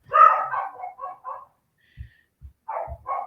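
Household dogs let out a few short barks and yips at moderate distance, with quiet gaps and soft low thumps between the outbursts.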